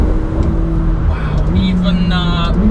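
A 2017 McLaren 720S engine droning steadily close by, its pitch stepping up between gear shifts, with wind and road roar underneath.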